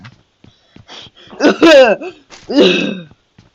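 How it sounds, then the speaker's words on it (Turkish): A person coughs and clears their throat up close in a few loud, harsh bursts separated by short pauses. "Öksürüyorsunuz küfür ettikten sonra."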